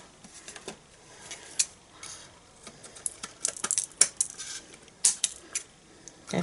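Light scattered ticks and small clicks of small cut paper bits patter irregularly across a desk, close by, with a few sharper taps standing out.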